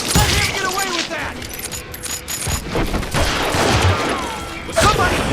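Gunfire from the Call of Juarez Gunslinger video game, a loud, dense volley of shots and impacts that carries on almost nonstop, with brief shouting mixed in.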